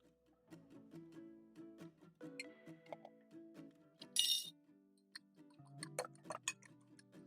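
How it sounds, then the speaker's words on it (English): A whisk beats a free-range egg with salt and black pepper in a bowl, making quick, light metallic clinks and taps in an irregular rhythm, close and fairly soft, with no one speaking. "Whisk up for around 20 seconds."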